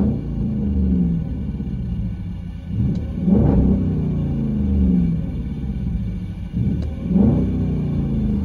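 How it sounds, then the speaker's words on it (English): Deep, steady rumble of a 2012 Jeep Grand Cherokee 5.7L HEMI V8 on a CARVEN TR-Series true dual exhaust, idling with two brief revs swelling and fading; no talking. "That sounds really nice. Jeep Grand Cherokee HEMI."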